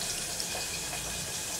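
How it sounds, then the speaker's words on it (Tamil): Water is poured steadily into a cooking pan while making sambar onion kuzhambu, giving a continuous, even splashing hiss at moderate volume with no voices. "கொஞ்சம் தண்ணி ஊற்றிக்கலாம்."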